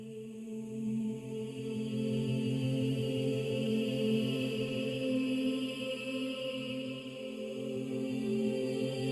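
A sustained, layered tone from a sample-based instrument in Arcade, several samples blending into a soft, shimmering drone that holds steadily at a low level.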